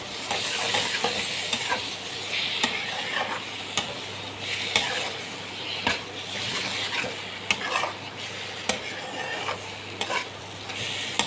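Spice paste being stir-fried in a pan for a jackfruit curry, a steady sizzle with repeated scraping and knocking of the spatula against the pan, close and continuous, with no voices.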